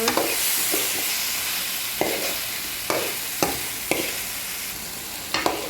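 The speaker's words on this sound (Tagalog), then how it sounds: "Hayaan natin siya munang magisa sa sibuyas at bawang at kamatis." Chicken sautés in a pan with onion, garlic and tomato, giving off a steady hissing sizzle punctuated by several sharp spatula knocks and stirring scrapes.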